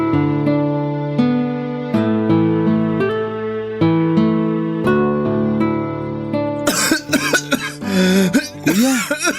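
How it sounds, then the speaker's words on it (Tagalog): Sustained musical tones play, then several rough, close coughs break out near the end. "Masama na yung ubo mo"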